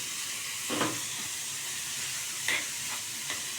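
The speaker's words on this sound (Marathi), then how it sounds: "तुपात चांगलं परतून घ्यायचं" Grated carrots for halwa fry in ghee, a faint, even background sizzle with a few soft stirring scrapes spaced through the clip and no voices.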